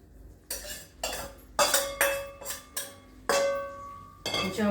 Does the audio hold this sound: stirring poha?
yes